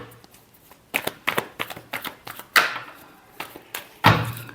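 Tarot cards are shuffled in several quick riffling bursts, close and fairly crisp, separated by short pauses and ending with a firmer riffle.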